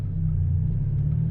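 A Scion FR-S, Toyota GT86 or Subaru BRZ fitted with a short shifter pulls away in first gear, its engine a low, steady rumble from inside the cabin with no voices.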